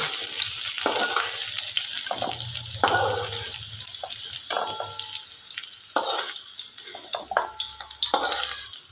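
Potatoes frying in oil in a pan, a steady high sizzle broken by intermittent clinks and scrapes of stirring.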